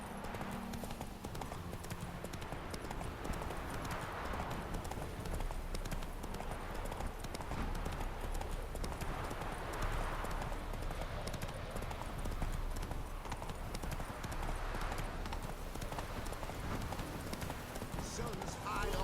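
Roach, a horse in The Witcher 3, gallops with steady clip-clop hoofbeats throughout, under continuous game ambience and a voice talking over it.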